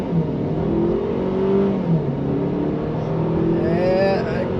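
A Mercedes-Benz CLA 250 with a 2.0L turbo engine accelerating hard from a standstill, the steady engine drone rising in pitch through the pull, heard from inside the car.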